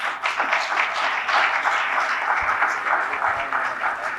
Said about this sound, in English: I think they all deserve a big applause.